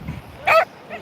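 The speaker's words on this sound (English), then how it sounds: "It's a little Rottweiler." A little Rottweiler puppy on a beach gives a single short, sharp bark, close by, with faint background noise around it.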